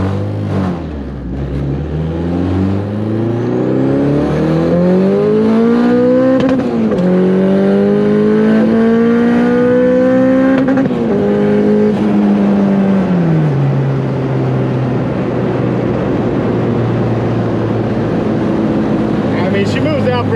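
A turbocharged Honda B20 car engine revs hard toward about 8,000 rpm, its pitch climbing through several long pulls before settling back to a lower drone, loud and close.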